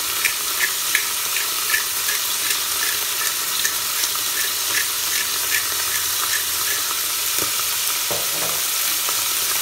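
Beef pieces browning in a hot pan for a daube, a steady close sizzle with crackling pops throughout and a few scraping stirs near the end.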